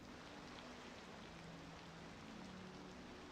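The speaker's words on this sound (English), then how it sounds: "Oh, it's raining." Rain falls in the city-building game Cities Skylines 2, a soft, continuous hiss of drops that stays faint and even throughout.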